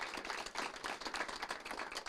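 Applause at a city council meeting, a steady patter of scattered clapping filling the room at moderate, somewhat distant level for about two seconds.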